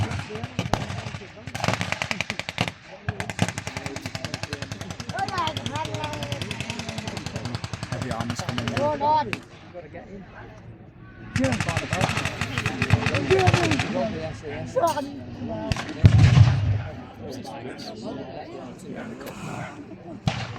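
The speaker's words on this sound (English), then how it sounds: "Now there's been an explosion over on the hill." Wartime battle reenactment at the Yorkshire Wartime 2025 event, with rapid machine-gun bursts, scattered gunshots and explosions rolling on continuously and loud, while a commentator talks over the battle.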